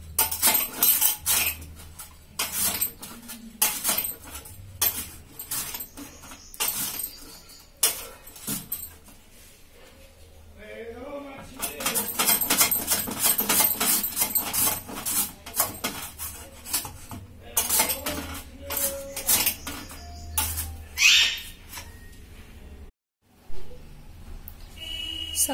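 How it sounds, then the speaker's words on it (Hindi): A knife chops potatoes into chips on a board: rapid, close, sharp chopping strokes in bursts, with brief pauses between runs and no talk. "सारे आलू को हम इसी तरह से काट लेंगे, चिप्स बना लेंगे।"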